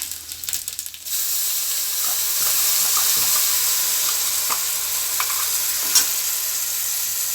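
A steady sizzle as ground green chutney fries in a pan, with occasional stirring scrapes, starting with a few clatters before the frying settles into a continuous hiss.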